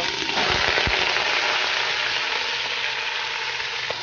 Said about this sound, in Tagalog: Sisir lang natin sa mantika